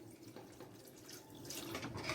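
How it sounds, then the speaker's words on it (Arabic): Tap water pours steadily into a pot of meat for a kebsa, a soft continuous splashing and trickling, close and fairly quiet, growing slightly fuller toward the end. "وهننزل بقى كده معانا هنا ميه عاديه من الحنفيه"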